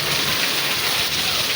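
Heavy rain driven by strong wind during a sudden downpour at a home, a dense, continuous roaring rush with no pauses and no voices.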